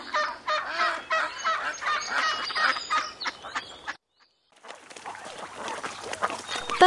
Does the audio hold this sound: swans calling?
yes